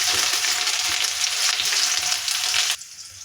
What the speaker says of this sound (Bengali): এখন পেঁয়াজ দিয়ে দিই